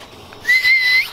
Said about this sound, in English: Can you do the whistle thing for him to come?